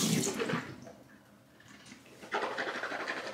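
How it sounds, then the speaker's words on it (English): Water sloshing and splashing faintly near a sink while rinsing the teeth after whitening strips, in two soft bursts with a quieter gap between them. "get water in your mouth and like scrub your teeth with a clean finger"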